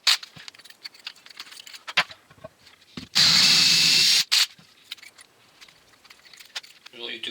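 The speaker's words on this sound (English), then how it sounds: "just take a drill, is what I use, or a drill bit I should say" A power drill fitted with a plug cutter bit bores into wood to cut plugs for a DIY window sill in a loft conversion, giving one loud whirring, grinding burst of about a second amid quieter handling clatter.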